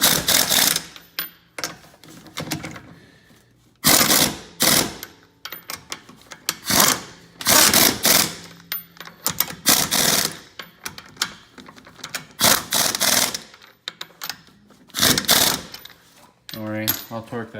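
Impact wrench tightening a KW Variant 3 coilover bolt on a turbo Eclipse, firing in a long series of sharp, loud rattling bursts separated by short pauses, close by with no talk.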